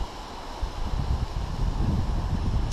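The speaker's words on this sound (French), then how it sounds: "Un petit vent" Wind blows across a beach in Finland, a soft low buffeting rumble against the microphone that swells gently and keeps going.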